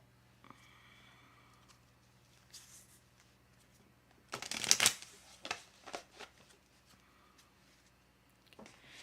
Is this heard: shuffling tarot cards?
yes